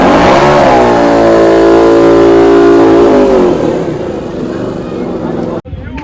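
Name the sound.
two-stroke motorbikes revving at drag meet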